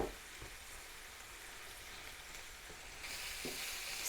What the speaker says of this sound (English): So you can fry your onions first if you want.